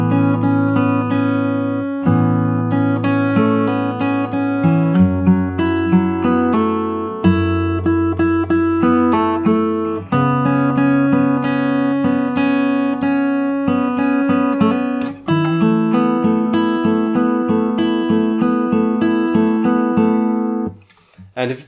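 Fingerstyle acoustic guitar plays the second half of the verse of a song, a steady flowing pattern of plucked notes and chords, close and clear with no voice.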